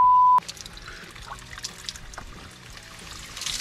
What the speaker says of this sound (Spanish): Una pequeña paradita a tomar algo de agua